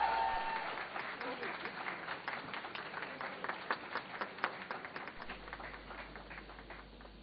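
An audience at an international leadership conference applauds, a dense round of clapping held at steady strength before thinning slightly toward the end, with a voice faintly present beneath it.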